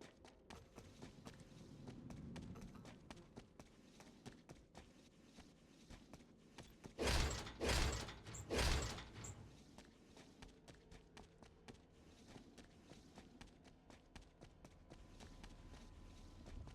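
Enemy footsteps in the video game Void Bastards: three heavy thudding steps stand out midway above a quiet bed of faint game ambience and clicks.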